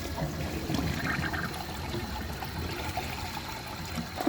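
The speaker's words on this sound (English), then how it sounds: "this time I'll hold the handle" A 2012 Glacier Bay all-in-one toilet flushes with its handle held down, giving a steady rushing, trickling flow of water close by throughout.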